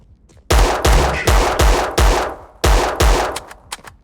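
Desert Eagle pistol fire in a CSGO-style video game, a string of loud, close, booming shots in an uneven rhythm, about seven heavy blasts with short gaps and a couple of fainter pops at the end, no talk.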